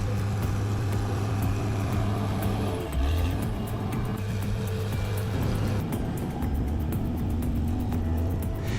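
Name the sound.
bulldozer working a hillside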